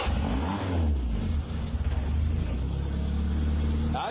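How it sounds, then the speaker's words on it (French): A Peugeot 205 GTI custom car engine rumbles loudly close by, revving up and settling into a throaty idle, with repeated surges of engine sound. "est-ce qu'on fait pas un petit démarrage de moteur?"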